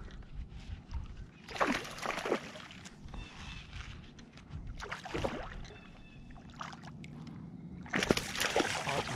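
A hooked bass thrashing and splashing in the water right beside a kayak, several bursts of splashing and sloshing close by, with someone talking quietly between them.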